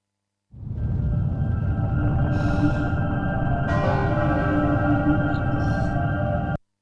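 Piano music recording mixed with ringing bells: sustained bright tones and chords hold steadily for about six seconds, with higher bell-like strikes entering partway through, and no speech.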